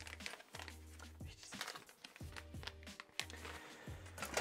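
A bag of Spekulatius spice mix is opened by hand, giving repeated crinkling and rustling bursts of thin packaging, close and fairly loud, over a low steady hum.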